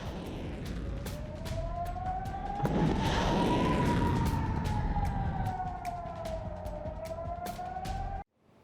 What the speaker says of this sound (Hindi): इन टारगेट शहरों में फिर से एयर रेड सायरन बज रहे हैं।